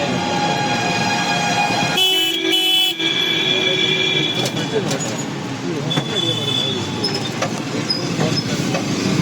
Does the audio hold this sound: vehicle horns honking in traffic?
yes